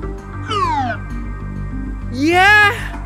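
A kitten meows twice, a short rising-falling mew followed by a louder, longer one, close and clear over a quiet low hum.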